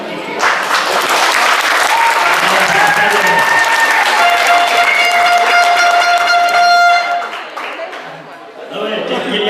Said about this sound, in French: Est-ce que je peux voir un peu comment est-ce que dans cette salle on fait applaudir?